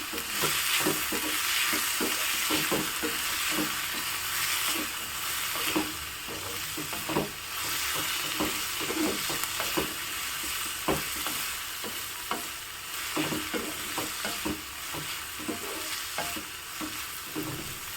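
Vegetables sauté in a pan with salt for a village-style breakfast dish. A loud, continuous sizzle runs throughout, broken by frequent spatula scrapes and stirring strokes, with no talking.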